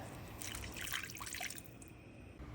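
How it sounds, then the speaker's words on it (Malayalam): Water is poured into a cooking pan of prawn masala spiced with salt, turmeric, chili powder, garam masala and black pepper, making a faint, steady trickle and drip close by, with no voices. "ഒരു കപ്പ് വെള്ളം ചേർക്കുക"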